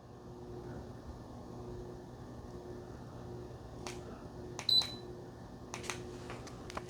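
A Levoit 36-inch tower fan giving short, sharp electronic beeps as its buttons are pressed, a few isolated high chirps over a faint low room hum.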